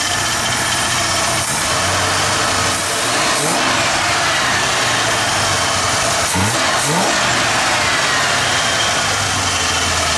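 A Ford Bullnose truck engine runs steadily at a loud idle on a newly fitted carburetor, rough and throbbing enough to rock the truck, with a couple of brief revs partway through.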